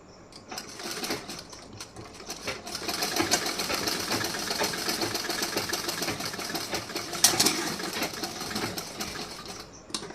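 A sewing machine stitching tucks on a blouse, a rapid mechanical rattle that starts quietly, runs steadily for several seconds with small pauses, then slows to a stop, close and with no talk.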